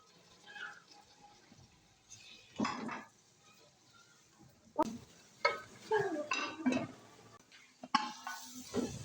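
Two red tomatoes go into frying spices for a karela and onion dish, followed by clattering stirs and scrapes in the pan with a soft sizzle underneath, close by and coming in uneven bursts.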